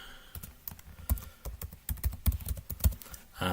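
Fingers typing on a computer keyboard while registering an online account, a brisk run of close, crisp key clicks with uneven rhythm and a few heavier thumps, no one speaking.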